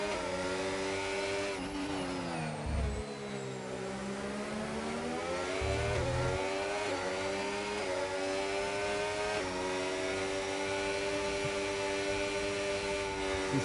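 Racing car engines on the main straight at the Azerbaijan circuit, a sustained high whining engine tone climbing and dipping in pitch through gear changes, continuous and fairly loud, with a second engine layered alongside.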